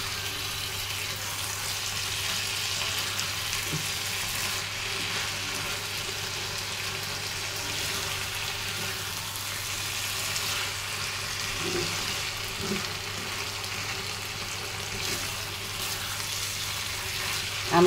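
Spicy pasta frying in a pan while being stirred, a steady hiss of sizzling running throughout with occasional soft clinks of the spoon, close and moderately loud, with no talking.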